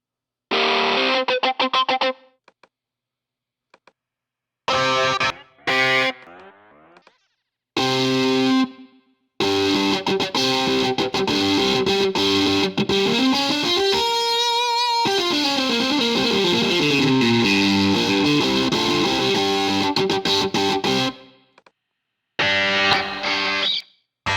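Crunchy, heavily distorted electric guitar from a guitar VST plugin plays sustained chords and sliding notes for heavy metal, loud and upfront, broken by short silent gaps between phrases.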